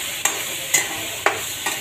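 Green chillies and tomatoes frying in a pan, a constant close sizzle punctuated by about four evenly spaced scraping strokes of a spatula.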